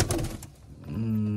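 Madras pigeons in a loft give a low, steady coo that swells near the end, after a short burst of rustling and fluttering at the start.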